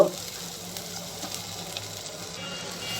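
Spices tossed into onions frying in mustard oil for eggplant dolma give a steady close sizzle with faint stirring scrapes, no voices.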